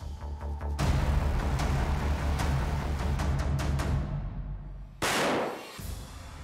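A Blaser R8 carbine in .375 fires a single loud, sharp rifle shot into a row of concrete blocks, followed by a long decaying echo and a second abrupt burst of noise.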